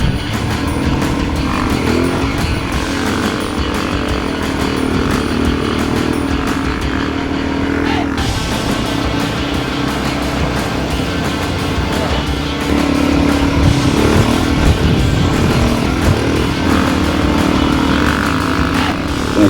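A Suzuki DRZ400 dirt bike carrying a full 28-litre tank rides along hard-packed beach sand at Rainbow Beach, its engine droning loudly and continuously with rising and falling revs.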